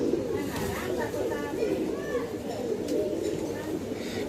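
A pair of large pigeons, male and female, coo softly and repeatedly at close range while someone talks over them throughout.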